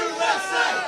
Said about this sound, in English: can we get a USA cheer for Liquid?